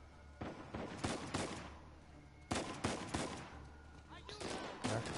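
Bursts of gunfire in Uncharted 4 crack out in several clusters of rapid shots, moderately loud with gaps of quieter background between them, while a person talks over the action.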